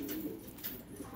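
Pigeons coo softly in a brief, faint burst as a flock flies overhead.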